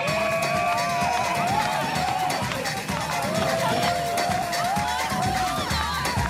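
New Year's crowd on Bondi Beach in the evening, a steady wash of many voices, distant calls and whistles over constant beach noise, with no single voice standing out.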